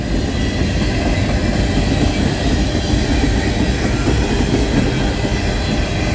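A Norfolk Southern freight train led by a Dash 9 locomotive rolls past nearby in Creighton, Pennsylvania, a loud, continuous rumble of cars and wheels with faint clatter throughout and no voices.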